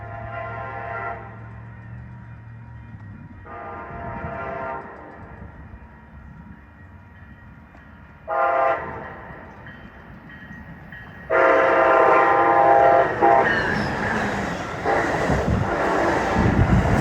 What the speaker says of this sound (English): There goes coaster 685 north to Oceanside.